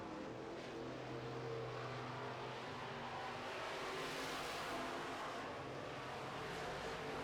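Midwest Modifieds race cars circle a dirt oval during a heat race, a steady blended engine roar with no single car standing out, moderately distant and sustained throughout.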